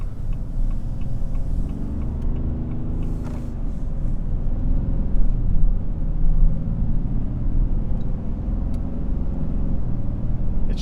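Cabin of a 2025 Ram 2500 heavy-duty truck with the 6.7 Cummins diesel driving with the exhaust brake on, a steady low engine and road rumble with faint ticking, no talk.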